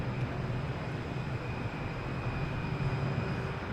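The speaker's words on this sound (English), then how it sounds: "Now we get Spirit Airlines here in the alley. heading out of here." A Spirit Airlines airliner taxis at Boston Logan Airport, its engines giving a steady, moderately loud rumbling drone with a faint high whine, no voices.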